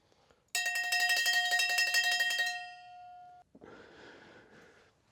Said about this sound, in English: It's the opening bell.